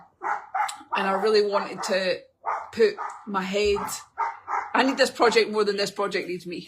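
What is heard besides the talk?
neighbour's dog barking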